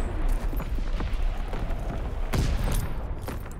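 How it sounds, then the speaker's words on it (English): Naval primary battery firing in Call of Duty WWII: a rumbling barrage of heavy, distant gun blasts rolls on continuously, with a sharper boom standing out partway through. "Firing primary battery"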